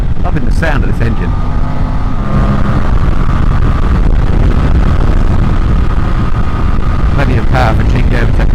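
A Voge DS800X Rally motorcycle engine drones continuously while riding, heavily mixed with wind rush against the microphone, loud and unbroken throughout.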